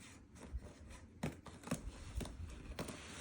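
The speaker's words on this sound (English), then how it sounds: "Let's cut the tape." Packing tape on a cardboard box is cut through during an unboxing in short, scratchy strokes, several separate rasping slices and tearing rubs spaced irregularly, close and fairly quiet, with no voices.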